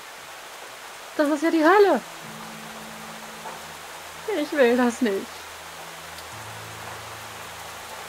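Steady rain falls in the video game Fall of Porcupine, a constant soft hiss running throughout beneath two short bursts of speech and a low sustained musical tone.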